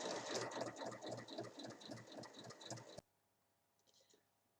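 A sewing machine stitches a narrow hem along fabric strips, running in a fast continuous whir with a dense needle chatter, then stopping abruptly, leaving near silence and a faint click.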